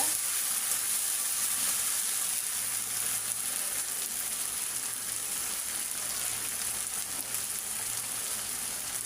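Ginger and garlic frying in oil in a pan for an egg curry, a steady bright sizzle with occasional stirring scrapes, continuous and close throughout.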